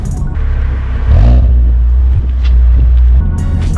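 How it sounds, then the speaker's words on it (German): Alfa Romeo 147 fitted with a Remus rear silencer, burbling at low revs: a deep, loud, close exhaust drone that holds steady, swelling slightly after the first second. "Dieser ganze brummende Sound in den relativ niedrigen Drehzahlen ist eigentlich nur erreichbar durch den Remus Endtopf"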